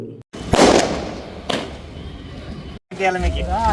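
Firecrackers set off by fans outside the Abhilash cinema hall in Gowribidanur for actor Chiranjeevi's 69th birthday: two sharp, loud bursts with crackling, followed by a person talking.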